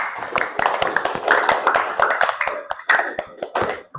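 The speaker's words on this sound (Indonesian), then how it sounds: "tepuk tangan untuk kita semua" A school class claps together in a quick, scattered burst of applause that keeps going, loud and close, with some voices mixed in.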